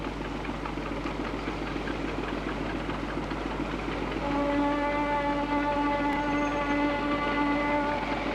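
A train running on rails past Fukuyama, a steady rumbling rolling noise throughout with a tonal hum that rises partway through, moderately loud and with no talk.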